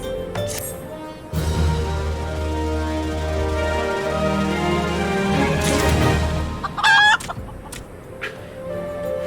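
A chicken clucking in the video game Final Fantasy XIV, a series of short clucks over a droning game background, ending in a brief sharp burst of squawks.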